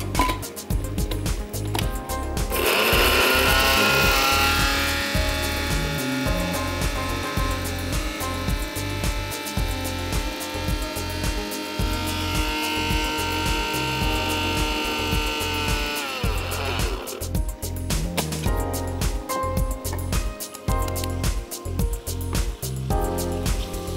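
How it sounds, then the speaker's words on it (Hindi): A small electric kitchen grinder pulverizes a cooled spice mix, whirring loudly and continuously with pulsing rattles for about twenty seconds before winding down. "आप इसको एक छोटे से ग्राइंडर में डालिए और इसको आप पीस लीजिए।"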